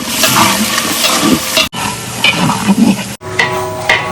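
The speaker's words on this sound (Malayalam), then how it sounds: "ഇഞ്ചി മൂത്ത് കഴിഞ്ഞാൽ ഒരു കിരിക്കിരി എന്നുള്ള സൗണ്ട് വരുമ്പോഴാണ് കറക്റ്റ് മൂത്തെന്ന് നമുക്ക് മനസ്സിലാവുക" Chopped ginger and green chillies frying in hot oil, a steady loud crackling sizzle that carries through the clip with brief cuts, with stirring scrapes on top.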